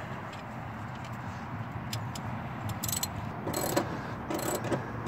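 A socket ratchet works on the seat bolts of a Jeep Wrangler JK, giving faint, quick clicking bursts over a quiet background.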